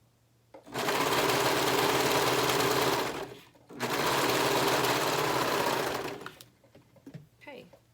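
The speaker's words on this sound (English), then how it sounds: "we're going to continue to sew our main piece and the bodice together" A sewing machine stitches the main piece and bodice of an Eden shirt together in two long, even runs of rapid stitching, each a few seconds long, separated by a short pause and ending in quiet.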